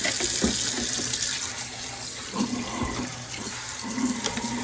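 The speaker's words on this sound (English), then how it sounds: "I'll wash that spoon right off." Tap water runs steadily into a kitchen sink as a spoon is rinsed under it, a continuous close splashing stream with occasional light clinks and shifts in the flow.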